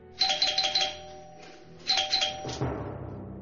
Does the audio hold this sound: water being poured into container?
no